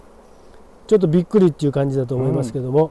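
Western honeybees hum at a hive during a small-scale honey harvest, a low steady buzz that runs alone at first and then continues under a man's speech.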